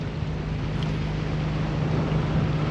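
Engine of a sailboat motoring during an open-sea crossing from Guadeloupe to Antigua, a steady low drone under constant wind and water noise.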